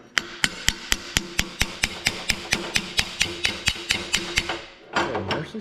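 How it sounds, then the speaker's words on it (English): A metal hammer beats on the gear of an RV slide room, about twenty sharp, evenly spaced ringing blows up close, followed by a short clatter of handling noise. "If all else fails, beat it with a hammer, right?"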